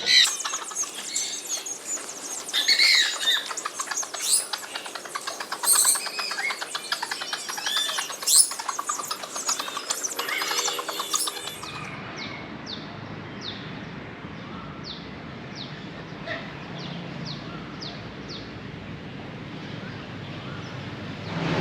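Many chickens and other birds in Thailand flap and call: dense, loud chirping, squawks and wingbeats for about twelve seconds, then a quieter stretch of regular light ticks over steady background noise.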